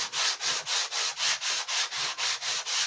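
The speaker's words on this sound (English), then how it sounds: "Wrap the paper around the block and it's simply a matter of sanding." Rhythmic strokes of sandpaper wrapped on a block rasp back and forth across a wooden garden table, about four per second, close and even.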